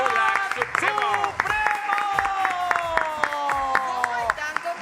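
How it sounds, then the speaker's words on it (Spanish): A studio audience claps warmly to welcome the Lula Lula Supremo team onto a Spanish-language show, the applause running throughout under cheerful tonal music and a voice talking over it. "los recibimos con un fuerte y cálido aplauso"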